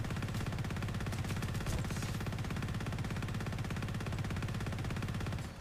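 T7 Mini-Chaingun firing in the game PlanetSide 2, a continuous rapid-fire stream of shots holding steady for several seconds, loud and close with no talk.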